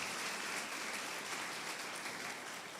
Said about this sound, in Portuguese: Aplaudo o Senhor por esse versículo.